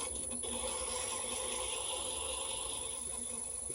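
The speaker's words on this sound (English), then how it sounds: "Put some sandpaper. We'll turn the speed down a little bit. Just want to sand that out" A wooden candle holder spins on a lathe while sandpaper is held against it at reduced speed, giving a steady close rasping hiss over the lathe's continuous motor hum.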